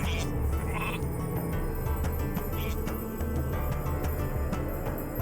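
Sheep bleat in the strategy video game Northgard, a few short calls rising over a steady, dense game soundscape of ambient music and noise.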